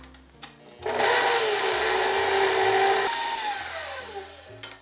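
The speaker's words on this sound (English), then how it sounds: "Now I'm gonna use my mixer here." An electric hand mixer whirs loudly for several seconds while beating frosting made with room-temperature butter and lemon juice, its pitch dipping partway through, with quiet background music before and after.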